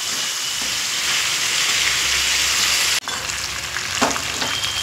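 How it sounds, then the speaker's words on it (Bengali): Chicken with Malabar spinach stems slowly stir-fried in oil, a dense, loud hissing sizzle with stirring scrapes that briefly cuts out and resumes with a few clinks of the spatula. "এইভাবে খুব সুন্দর করে ধৈর্য ধরে একটু কষিয়ে নিতে হবে"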